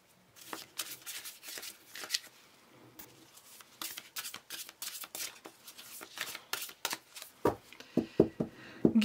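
Tarot cards shuffled and drawn for a general timeless love reading, a steady run of soft riffling and rubbing card sounds close by, ending in several sharper slaps and snaps as cards are laid down.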